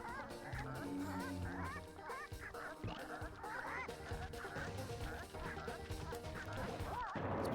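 Repeated squawking, warbling bird calls from a chicken in the Sly Cooper video game, sounding close and loud over steady in-game music for the whole stretch.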